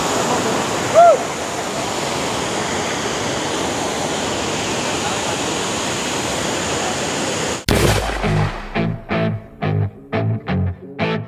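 Forceful water rushing steadily, like a waterfall or fast stream seen on a road trip from Alappuzha to Munnar in Kerala, a loud continuous roar that cuts off abruptly and gives way to music.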